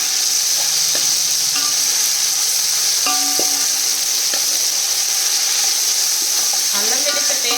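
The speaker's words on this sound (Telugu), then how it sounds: "ఈ అల్లం వెల్లుల్లి పేస్ట్ కూడా పచ్చి వాసన పోయే వరకు ఫ్రై చేసుకోవాలి" Steady, loud sizzling of ginger garlic paste frying with onions in a hot pan, a continuous bright hiss with occasional light scraping clinks of stirring.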